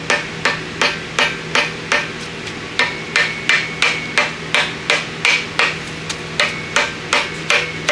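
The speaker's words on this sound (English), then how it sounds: "with a rubber mallet, that is." A rubber mallet taps a part onto a Honda B-series engine block in a quiet shop, about twenty sharp, evenly spaced knocks, close and loud with no talking.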